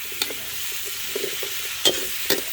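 Squash and other vegetables get stirred in a cooking pot outdoors on a farm, giving a few scattered soft knocks and scrapes over a faint sizzle, with no voices.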